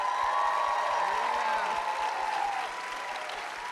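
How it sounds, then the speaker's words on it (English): Audience applause at a panel event with Jane Fonda, a continuous wash of clapping from a crowd, with a low rhythmic thump and a tonal hum running underneath. "one more round of applause, please"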